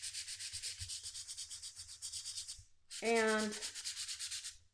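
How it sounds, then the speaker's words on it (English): Sandpaper rubs lightly over card, making a soft rhythmic scratching of quick back-and-forth strokes close by and quiet. It stops briefly and then resumes. "So I've got a little piece of sandpaper, and I'm going to show you how."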